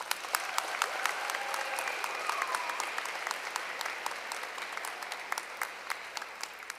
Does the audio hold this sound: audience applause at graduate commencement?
yes